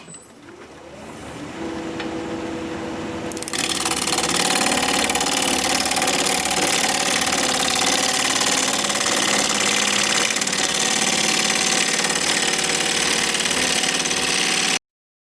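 A wood lathe turning a cracked wood blank at 1100 RPM spins up over the first few seconds, then holds a loud, steady mechanical whir with a rough, knocking vibration throughout.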